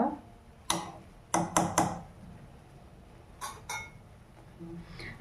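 Homemade hair oil frying in a pan while being stirred, with a spoon clinking against the metal in a few sharp taps and a quick cluster of knocks over low sizzling.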